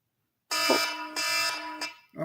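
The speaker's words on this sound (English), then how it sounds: "Oh, my alarm." An electronic alarm sounds in loud repeated bursts, a harsh buzzing tone that starts after a half-second of silence and pulses about three times, with a voice briefly cutting in at the end.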